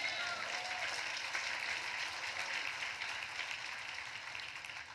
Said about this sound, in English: Give the village a round of applause.